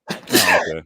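A single sneeze bursts out close by during a casual group chat over drinks, followed straight away by a brief spoken reply.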